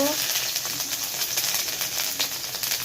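Ginger paste sizzles and fries in hot oil for a Bengali egg curry, a steady broadband crackle with soft popping throughout, close and fairly loud, no talking.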